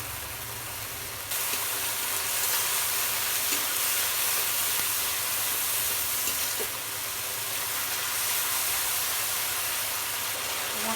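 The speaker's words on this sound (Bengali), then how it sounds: "মাছটা কষানো হয়ে গেছে" Fish cooks in a pan with onion paste, turmeric, coriander powder and salt, making a steady broad sizzling hiss that carries evenly throughout, with a few faint stirring taps.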